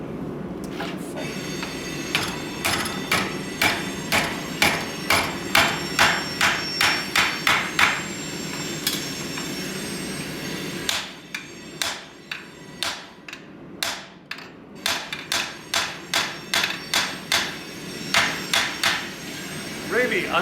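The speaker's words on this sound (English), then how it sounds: "Really underutilized tool, the set hammer." Repeated sharp metallic blows from a set hammer in quick rhythmic bursts, ringing on steel while forging a collar, with a brief pause before another run of strikes.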